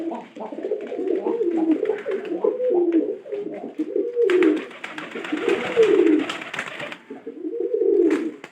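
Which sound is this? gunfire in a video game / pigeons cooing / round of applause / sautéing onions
pigeons cooing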